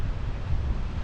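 Continuous roar of large waves breaking at Legon Pari Beach, Sawarna, Banten, with heavy rumbling wind noise on the microphone, loud and unbroken, no voices.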